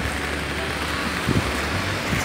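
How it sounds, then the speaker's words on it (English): Steady rain falls outdoors at night, a constant dense hiss with a few faint low thumps. "It's very rainy."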